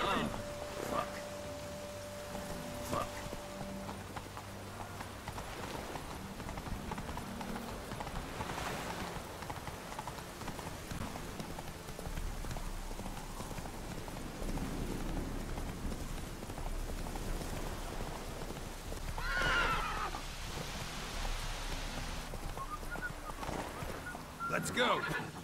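Horse hooves clip-clopping and an occasional whinny in the game The Witcher 3, faint and steady beneath game ambience and someone talking.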